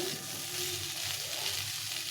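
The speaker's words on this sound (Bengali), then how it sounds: "এভাবে সুন্দরভাবে ভেজে নিতে হবে" Vegetables seasoned with chili powder, turmeric and salt fry in a pan for spinach curry, giving a steady, close hiss of sizzling oil without any talk.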